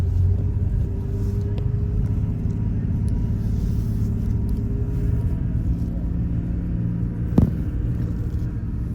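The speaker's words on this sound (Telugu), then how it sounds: "మినీ బస్, చిన్న బస్ ఇది." A mini bus's engine rumbles low and steady from inside the moving vehicle, a continuous drone with faint road noise and one brief knock near the end.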